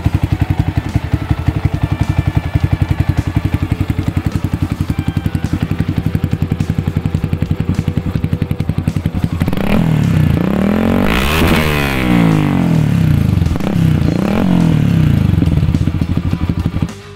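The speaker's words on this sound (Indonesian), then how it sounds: "knalpot yang saya gunakan yaitu knalpot Tritec dengan seri GP Spartan 3" A Yamaha Vixion motorcycle with a Tritec GP Spartan 3 aftermarket exhaust idles with a loud, rapid, even throb, then revs hard in swelling bursts of throaty roar before settling back.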